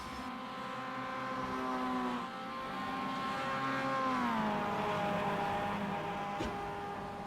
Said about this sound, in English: As Alex Albert makes his way through Bergwerk and up the hill for the first time since the pit stop